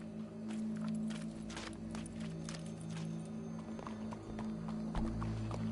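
A horse walking in Red Dead Redemption 2, with irregular clip-clop hoofbeats at moderate distance over a low droning background, soft and fairly faint throughout.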